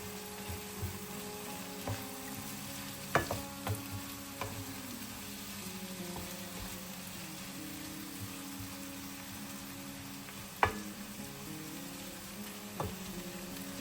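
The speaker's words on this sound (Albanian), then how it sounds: "Do vazhdojmë t'i përzijem." Potatoes and tomatoes seasoned with salt, red and black pepper and oregano sizzle steadily in a pan, broken by occasional scraping knocks of a spoon stirring them.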